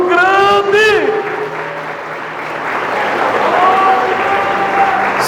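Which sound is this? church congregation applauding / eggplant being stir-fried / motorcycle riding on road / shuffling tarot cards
church congregation applauding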